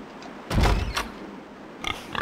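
Deadite pigs in the game Evil Dead: Hail to the King give a short loud grunting burst, then a fainter snort a second later, near and unaccompanied by talk.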